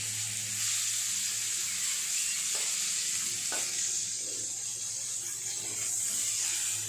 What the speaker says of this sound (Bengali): প্রথমে পটলগুলোকে দিয়ে দেবো তেলের উপর